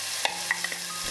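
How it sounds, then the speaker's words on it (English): Oil crackles and sizzles in a pan as cumin seeds fry, with a few light stirring clicks over a steady hiss. "Start with the cumin seeds, frying them."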